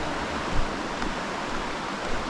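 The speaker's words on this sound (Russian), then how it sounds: "Это уже вот река" The Neris River in Lithuania rushes in a broad, steady hiss, continuous and fairly loud, with no voices.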